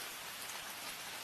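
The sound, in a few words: rain falling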